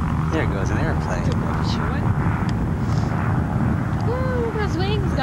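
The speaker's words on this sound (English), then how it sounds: "There goes an airplane." A fixed-wing airplane passes at Dutchess County Airport, its steady broadband engine roar heard under people talking.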